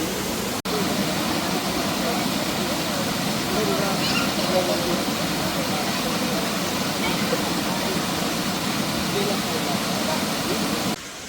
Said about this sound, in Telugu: చూసారు కదా విభూతి వాటర్ ఫాల్స్, చాలా బాగుంది